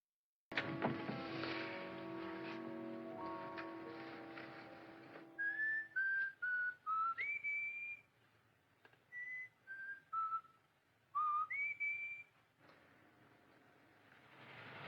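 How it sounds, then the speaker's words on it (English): A man whistles a jaunty tune in short, bright phrases, separated by pauses, over a steady low background hum. "whistling a jaunty tune to himself"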